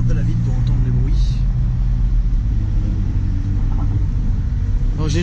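Road noise and engine rumble from a McLaren 570S, Porsche GT3 or Cayman GTS sports car come through an open window as a steady, loud roar, with a voice speaking faintly.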